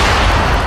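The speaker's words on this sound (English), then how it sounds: "Grenade." A grenade bursts in Fortnite as a very loud, dense blast that fills the whole short moment with a heavy, sustained boom and no voices.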